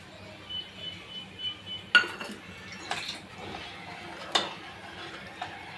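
A spoon stirring a milk powder and milk mixture in a dish, with scattered clinks and scrapes of metal on the dish, close and moderately loud, with no voices.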